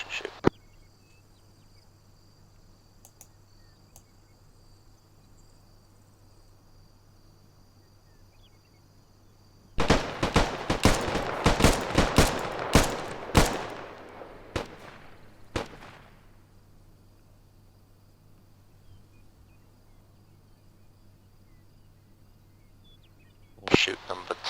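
Rifle shots at an outdoor military-simulation training range, a rapid burst of sharp cracks fired from standing at 50 meters, clustered over several seconds amid quiet background hum, with one more distant shot later.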